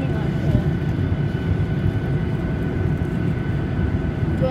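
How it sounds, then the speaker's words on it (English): A passenger airplane taxis onto the runway, heard from inside the cabin as a steady, loud low engine rumble and hum that holds throughout with no break. "We're going onto the runway now."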